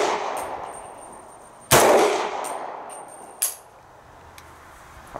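A 300 Blackout pistol fires two sharp, loud reports about two seconds apart, each with a short ringing decay, over quiet outdoor background.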